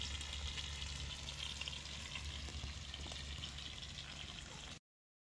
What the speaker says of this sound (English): Jay's just got half a leg of lamb going in there, just starting to sear that.